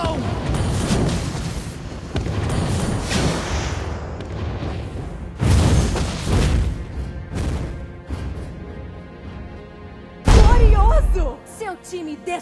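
Explosions in the mobile game Mobile Legends ring out as a dense run of loud booms and blasts. Game voice lines and effects play over them, and a sharp, heavy burst lands near the end.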